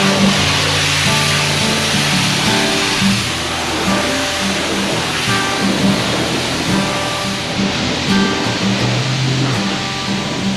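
Pressure water spray hitting a 2021 Polaris RZR Pro off-road vehicle during a wash, a loud steady hissing roar that continues unbroken throughout, with no talking.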